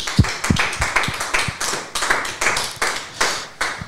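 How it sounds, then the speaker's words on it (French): A small audience claps after a French-language conference talk, giving sparse, uneven claps at a moderate distance. "Je pense qu'on peut l'applaudir"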